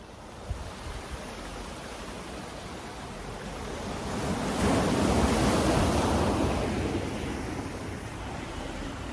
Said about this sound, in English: If you guys hear the waves in the background and the sea,